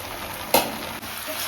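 Oil left over from frying fish poured into a vegetable chachchari, a sudden sharp sizzle burst that quickly fades into a steady frying hiss, close and fairly loud.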